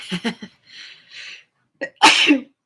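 A single sharp, loud sneeze bursts out near the microphone after a few quieter breathy sounds and short vocal noises.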